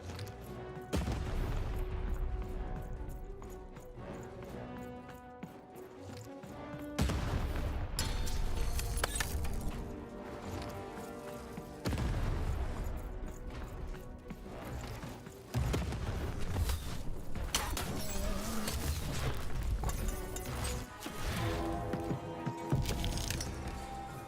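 Cannon fire in a video game: repeated booming blasts and cracking gunfire bursts over loud game music, with heavy sustained sections broken by brief pauses.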